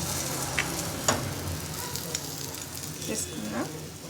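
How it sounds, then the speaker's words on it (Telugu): Breaded KFC-style chicken frying in hot oil gives a steady, close sizzle with a few sharp pops and crackles. "ఇప్పుడు ఇది బాగా ఫ్రై అయిపోయింది"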